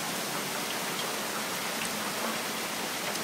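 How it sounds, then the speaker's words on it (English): Heavy rain pours steadily during a storm with hail, a dense, unbroken roar of water on surfaces that stays loud and even throughout, with no voices. "It's been raining like this for probably about an hour."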